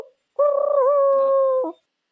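A person mimics a pigeon by voice, making one close, steady hooting coo that holds for about a second and a half and then cuts off, with silence around it.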